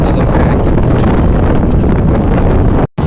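Strong wind roars continuously against the microphone while riding a motorbike on a village road, a loud steady buffeting that cuts off abruptly near the end.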